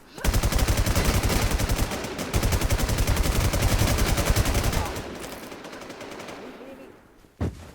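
Rapid automatic gunfire in a shooting video game, with dense bursts of fast shots carrying loud and continuous through most of the clip, then tapering to quieter background action and one last sharp shot near the end.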